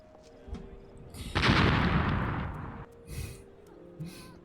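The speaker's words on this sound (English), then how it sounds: "Oh, there's the big explosion." A big explosion in the video game Final Fantasy XIV: A Realm Reborn, a loud, sustained boom lasting over a second, followed by fainter bursts and impacts.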